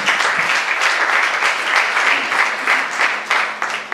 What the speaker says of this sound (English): Can we give a round of applause for the teachers?